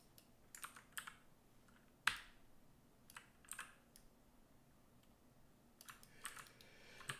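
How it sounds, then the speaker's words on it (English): Someone types on a computer keyboard in short, irregular bursts of crisp key clicks with pauses between, close and fairly quiet, with one sharper louder tap. "And then I'm just going to type it this time."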